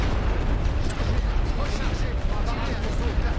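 Loud, continuous artillery barrage in the trench warfare game The Great War: Western Front, a dense rumbling roar of overlapping explosions that never lets up, with a voice talking over part of it.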